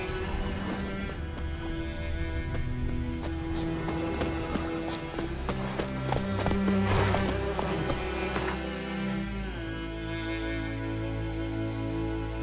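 Horse hooves clip-clop in The Witcher 3 game, a steady rhythmic trot of fairly close hoofbeats mixed under music and ambient game sound.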